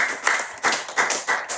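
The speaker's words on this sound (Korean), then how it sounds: "박수!" An audience at a public lecture on K-English claps on cue: a few brief bursts of hand claps in a loose rhythm, fairly close and moderately loud, with no talking.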